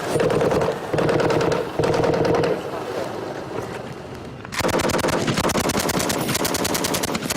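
Sustained machine gun fire in a front-line Afghanistan battle, rapid bursts close and loud with a brief lull before a heavy continuous burst resumes; wind buffets the microphone and voices are faintly present.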